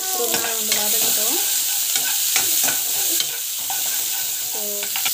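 Onions sauté in a pan for a spinach curry of pasala keerai thalippu, with a steady hiss of frying under frequent close scrapes and clinks of a stirring spoon, and no voices.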